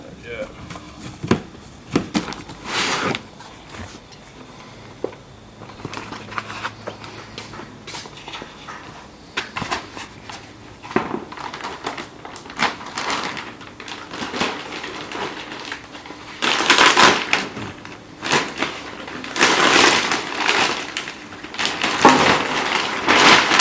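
Cardboard and packaging being handled while a new Pro Series JZX radiator for a JZX100 Chaser is unboxed, with scattered rustles, thumps and crinkles under steady talking.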